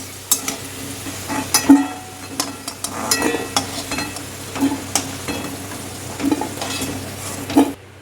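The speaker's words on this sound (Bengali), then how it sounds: "ফোড়ন দিয়ে দিচ্ছে তেজপাতা শুকনো লঙ্কা আর গোটা জিরে হিং" Bay leaf, dried red chilli, whole cumin and asafoetida sizzle in hot oil for a vegetarian tempering, a close crackling hiss broken by repeated clinks and scrapes of a stirring spoon.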